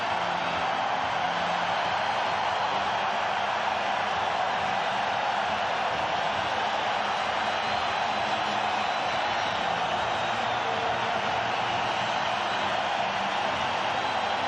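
A dense, unbroken roar fills the Winnipeg Arena during game 6 of a 1993 NHL playoff series between Vancouver and Winnipeg, loud and constant like white noise as the scoreboard pumps up the crowd.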